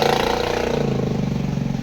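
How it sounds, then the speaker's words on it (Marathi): A motorcycle with a burst silencer, just restarted after water got into the exhaust in heavy rain, runs nearby with a rough, throbbing, fast-pulsing exhaust note at moderate volume. "चालू झाले पण सायलेन्सर फुटला वाटतं त्याचा. काय आवाज बदलला."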